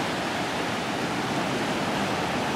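Sea waves washing onto a beach, a steady broadband rushing surf that stays even and fairly close throughout, with no voices over it.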